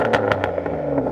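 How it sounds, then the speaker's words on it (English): A loud, throaty Aston Martin DBS V12 engine revving close by at the exhaust, with rough bursts of exhaust rasp rising and falling over a steady low rumble. "listen to this. Before you rev it, Ben, let me just get up close to the exhaus"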